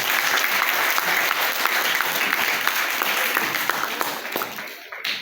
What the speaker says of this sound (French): c'est grâce aux enseignants qu'il faut applaudir très fort